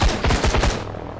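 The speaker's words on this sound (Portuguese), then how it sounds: "estamos levando tiro, estamos levando tiro" Rapid bursts of gunfire strike a helicopter in the survival game Sunkenland, a loud rattling volley of several quick repeated shots for most of the moment before trailing off into engine rumble.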